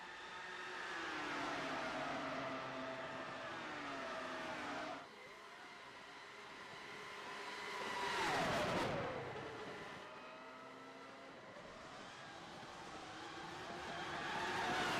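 Race cars roar around the Italian Grand Prix circuit in a racing video game, engines whining up and down through gear changes, with one car sweeping past loudly midway and no voices.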